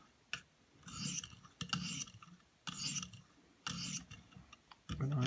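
A WE Banter pocket knife is drawn across a 1200 grit sharpening stone in single-direction passes, making four bursts of hissing, rasping scrape separated by short pauses and light clicks, close up with no talking.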